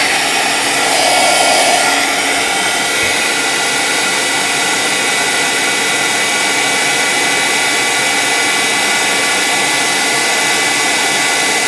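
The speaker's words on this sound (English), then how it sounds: "let's go ahead and heat emboss this." A heat gun runs steadily to heat emboss a craft project, a loud continuous close-up blowing roar that holds level without a break and has no talking over it.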